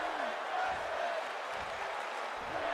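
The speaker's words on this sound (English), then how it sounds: "crowd yelling for women's wrestling" Crowd at a women's wrestling match, a dense, continuous roar of yelling and cheering filling the hall, with a voice faintly audible beneath.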